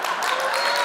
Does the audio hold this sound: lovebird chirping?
no